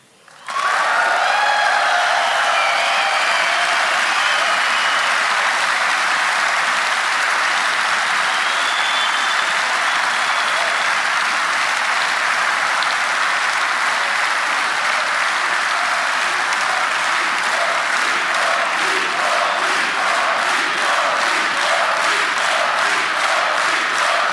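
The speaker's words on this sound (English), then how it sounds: "The crowd is chanting encore." A large outdoor rally crowd at a Hungarian-American Friendship Day event claps and chants in a loud, sustained roar, with a rhythmic chant emerging in the second half and no clear speech over it.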